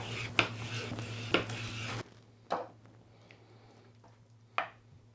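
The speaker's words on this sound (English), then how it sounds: "So I'm going to flip these over and cut them." Smoked Caribbean-style ribs being flipped and cut, with a few sharp knife and utensil knocks against a board or pan over a low background hum, the first part carrying a soft sizzle.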